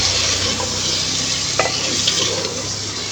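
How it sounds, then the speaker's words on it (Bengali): A wooden spoon stirs a village-style taro root (kochu mukhi) curry in a clay pot, producing a steady, close sizzle with a few soft scraping knocks. "কাঠের চামচ দিয়ে নেড়ে চেড়ে দিব"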